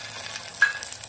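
Finely chopped tomato dropped into a hot pan sizzles and fries steadily in a home kitchen while tuvar dal and rice are cooked, a soft continuous crackle with a few brief spits, close and fairly quiet, with no talking.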